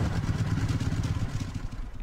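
A motorcycle in the Last Day on Earth survival game rumbles with a steady, close engine drone and some mechanical clatter that lasts about two seconds.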